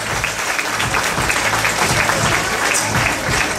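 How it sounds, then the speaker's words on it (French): A pageant audience at the Miss Cazères 2012 final breaks into sustained, dense applause, a steady wash of many hands clapping at close range with no pauses. "On va encore une fois les applaudir"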